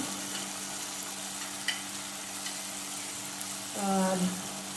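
Tomato and mushroom masala frying in a pan, a soft continuous sizzle beneath a steady hum, with a brief stir and a louder rising tone near the end.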